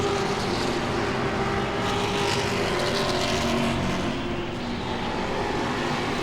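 Grand Stocks race cars roaring around the Langley Speedway oval, a dense continuous engine drone with overlapping motors rising and fading as the pack circles, loud and steady throughout with no talking.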